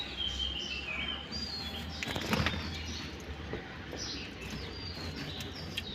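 Pet budgerigar parrots in a cage give scattered high chirps and tweets, with a brief burst of wing flapping in the middle, all fairly faint against a low background hum.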